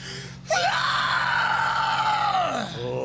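A single vocal fry scream starting high and sliding down into a chestier, lower register, sustained loud and close for about two seconds before dropping off.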